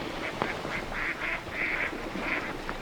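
Ducks quack repeatedly in short nasal bursts at a pond where swans are also being fed, the calls close and overlapping with steady outdoor background noise.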